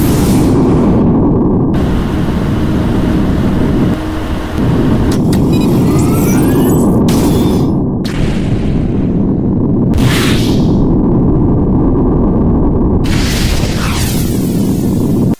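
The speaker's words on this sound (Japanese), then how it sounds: "格納庫からのジェット噴射での発進場面を再現したのでご覧ください" A reproduced Jet Jaguar launch from a hangar on jet thrust sounds as a loud, sustained roaring rush with heavy low rumble, punctuated by several sharp bursts of hissing blast.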